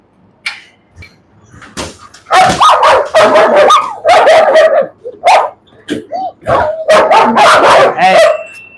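A dog barks repeatedly during nighttime bite work training, loud close bursts of barking and yips in irregular clusters, with brief whimpers and quieter gaps between volleys.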